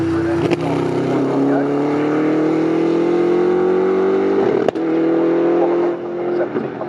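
Ginetta and McLaren GT race cars exit a corner at Snetterton, engines droning steadily and rising in pitch as they accelerate, loud and continuous, with a commentator talking over them.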